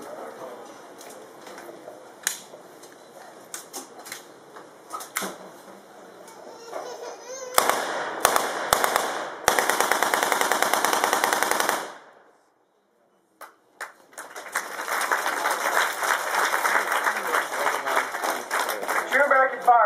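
Bursts of automatic fire from a 1921 Thompson submachine gun at an Independence Day WWII re-enactment, loud rapid volleys broken by a brief silence, with crowd noise and voices throughout.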